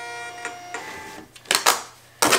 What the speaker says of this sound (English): And I have a little Dymo printer over here.